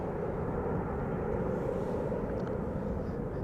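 A fifteen-year-old KLM airliner at Schiphol Airport gives a steady, distant jet roar that holds evenly throughout the short stretch, with no voices over it.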